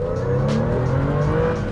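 An old, cheap Porsche 911 pulls away onto the road, its engine note climbing steadily through a short rev close by, with a couple of faint bumps and no talking.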